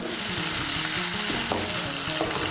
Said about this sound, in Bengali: এখন এর মধ্যে দিয়ে দেব জল